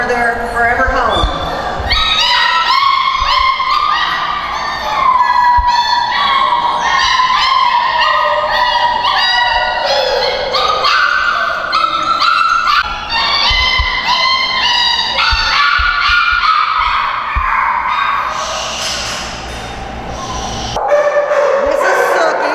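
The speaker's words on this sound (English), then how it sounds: "And here we have another litter of puppies. They're a little bit older. They are pit mixes" A litter of pit mix puppies at an animal adoption event yaps and whimpers constantly. The high overlapping barks and whines are close and loud, with voices and a little crowd noise mixed in.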